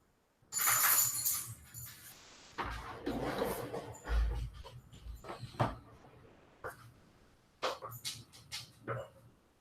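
A dog close by gives restless whimpers and yips, along with scuffling and bumping noises indoors and no talking.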